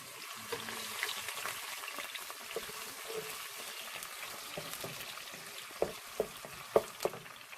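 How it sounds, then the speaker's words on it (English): Onions hit hot oil in a pan for Cameroonian-style jollof rice, giving a continuous crackling sizzle with scattered pops and a few louder stirring clatters near the end, close by. "after our oil is hot, we're gonna be adding our onions."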